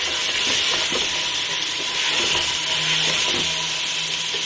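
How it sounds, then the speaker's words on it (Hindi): Black-eyed beans (lobia) fry in oil in a pan, giving a steady sizzle with soft scraping and rubbing stirs, close and alone without talk. "लोबिया अच्छे से भुन चुका है।"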